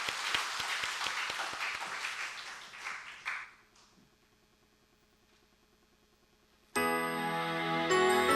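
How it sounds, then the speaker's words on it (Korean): A church congregation applauds together during a testimony service, dense clapping filling the first few seconds, then fading to quiet before a bright chiming musical passage begins near the end. "우리 한번 박수로 하나님께 영광 올려드리겠습니다"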